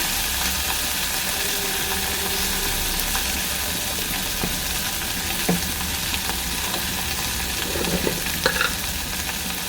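Tangra fish fry with turmeric as water is added, making a loud, dense, continuous sizzle with occasional scraping stir sounds and no talking.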